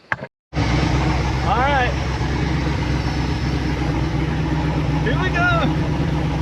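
The engine of a completed TMR chassis off-road vehicle idles and runs steadily, loud and close, after a brief cutout at the start, while someone speaks briefly over it.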